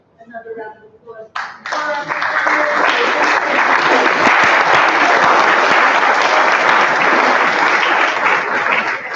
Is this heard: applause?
yes